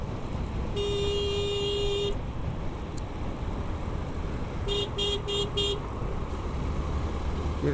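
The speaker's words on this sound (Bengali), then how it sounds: "ভাই আমি যত হর্ন দিই এটা তত ডানে চাপায়" Car horn honking on a highway near the Jamuna Bridge toll plaza, one long steady blast followed by a rapid burst of short toots, over constant loud road and wind rumble.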